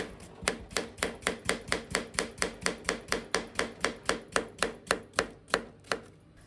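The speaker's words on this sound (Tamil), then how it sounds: "நல்லா தோல் சீவி எடுத்துட்டு இந்த மாதிரி நல்ல ரவுண்ட் ஷேப்பில் கட் பண்ணி எடுத்துக்கோங்க" A knife cuts a peeled cucumber into round slices on a board, about twenty crisp, evenly spaced chops at a brisk, steady rhythm, close and clear.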